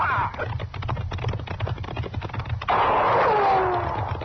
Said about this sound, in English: Hey, he's shooting at us.